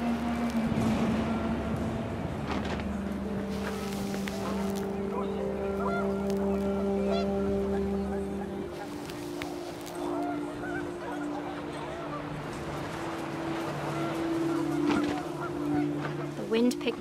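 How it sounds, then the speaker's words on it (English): Panicked geese honking in the video game What Remains of Edith Finch, scattered calls over wind and ambient noise, with a voice talking over parts of it. "panicked geese appeared and quickly went"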